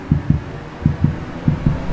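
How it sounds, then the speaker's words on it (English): Car scanner playback of the driver's heartbeat, a deep throbbing lub-dub pattern in three evenly spaced pairs, loud and close over a steady low hum. "You hear that? Little heartbeat?"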